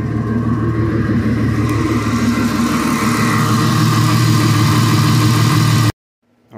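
A Jeep 4.0L engine idles steadily, close and loud, with a deep even rumble that cuts off abruptly near the end.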